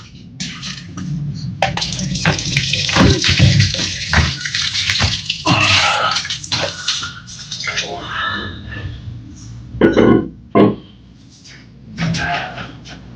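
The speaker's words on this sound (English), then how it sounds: "the water still pouring out of the drain" Water pouring out of a drain during a repair to clear a blockage, a close splashing trickle with drips and knocks, largely masked by a person talking over it.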